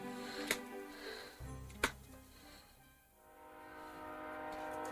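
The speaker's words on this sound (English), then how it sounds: "we got train sounds, we have ambiance" Train ambience from a Sonic the Hedgehog murder-mystery video game plays quietly as a low rumbling rail hum, with two sharp clanks and faint tonal swells under a soft music-like bed.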